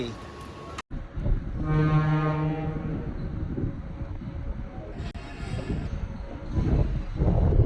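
A loud train horn sounds a sustained, rich multi-tone blast for about two seconds amid rumbling station and rail noise in Mumbai, with voices in the background.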